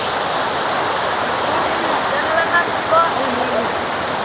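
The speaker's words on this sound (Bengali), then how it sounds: "দ্বিতীয় স্টেপের অত্যন্ত সুন্দর ঝর্ণার কাছে চলে এসেছি" Steady, loud rushing roar of Khoiyachora waterfall in Mirsarai, Chittagong, at its second step, constant throughout, with faint voices briefly surfacing beneath the water noise.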